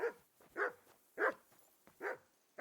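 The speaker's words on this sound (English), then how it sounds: "Hey, call off that dog and then we can talk." A dog barks in the video game Kingdom Come: Deliverance II, five evenly spaced, fairly close barks in a steady rhythm with quiet gaps between them.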